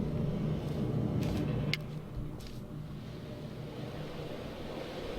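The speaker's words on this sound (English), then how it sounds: "wind is making an awful lot of sound" Steady wind rumbles low and continuous over an island in the video game Dear Esther, with a few faint higher knocks early on and no voices.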